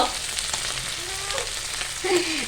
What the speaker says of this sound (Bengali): আবার মাছ ভাজছি